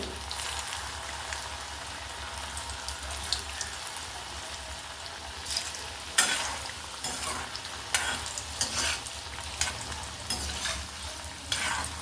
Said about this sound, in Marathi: इथे आपण आता वड्या तेलामध्ये टाकून घेऊया